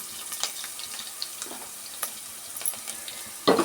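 Asafoetida frying in a pan for obbattu sambar, a soft continuous sizzle dotted with small pops and crackles, ending in a louder burst of spattering near the close.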